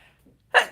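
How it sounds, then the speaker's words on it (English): A single quick sneeze bursts out near the microphone at the end of a stretch of quiet breathing, followed by a short tail of breath. "I think I'm going to sneeze"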